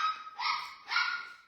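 A puppy barks from another room, giving two or three short high yips that sound muffled and moderately faint, with no talk over them.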